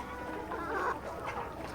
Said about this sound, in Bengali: এগুলো হচ্ছে আমার অরিজিনাল টাইগার মুরগির প্যারেন্টস।